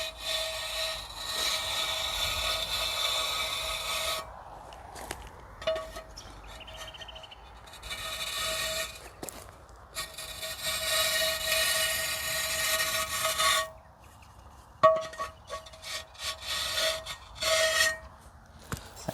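Wood being marked out with a pair of pliers used as a guide around the top, giving close, steady rasping and scraping strokes in bursts with short pauses between.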